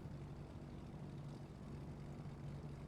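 A propeller aircraft taxis in a flight simulator game, its engine a steady low droning hum with a faint buzzing tone, continuous and fairly quiet with no talking.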